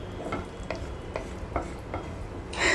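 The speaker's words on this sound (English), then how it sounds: "Fry them properly in the ghee." Cashews and almonds frying in ghee, heard as soft, regular stirring scrapes against the pan over a low sizzle, ending in a brighter burst of frying noise, close up and quiet, with no talking.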